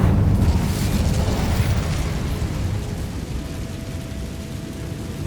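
An Incendio fire spell goes off in Hogwarts Legacy with a loud, deep whooshing burst of flame at the start, then a rumbling roar that slowly fades and ends in a low, lingering hum.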